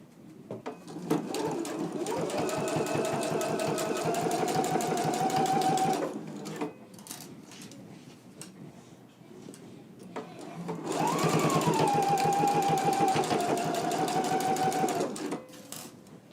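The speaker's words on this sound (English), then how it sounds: "go ahead and do your regular machine stitch through all thicknesses. Let's do that now." Domestic sewing machine running a regular straight stitch through all thicknesses of a garment's midriff pieces, with back stitching at start and end: two sustained whirring bursts of several seconds each, separated by a quieter pause, close and fairly loud.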